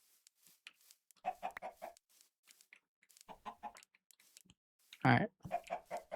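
Two chickens cluck in the Minecraft video game, with repeated short bursts of close, moderately loud clucking and someone speaking briefly among them.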